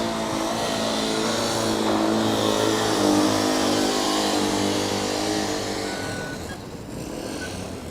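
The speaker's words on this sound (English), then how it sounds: "I think a lot of these combustion cars sound a bit raw" A loud combustion engine roars and climbs in pitch as a Formula Student race car accelerates in an acceleration event, sustained and close, then eases slightly near the end.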